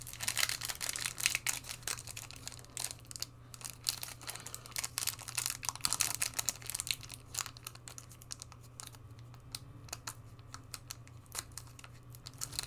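A foil trading card booster pack for a Lord of the Rings collector box being torn and peeled open, continuous close crinkling and crackling of the wrapper over a low steady hum, with no voices.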